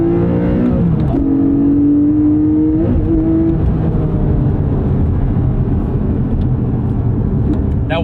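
A Porsche 718 Cayman GTS 4.0 engine revs loudly up close, pitch climbing and dropping through a couple of throttle blips before settling into a steady, throaty hum.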